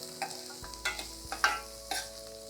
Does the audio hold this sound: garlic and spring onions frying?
yes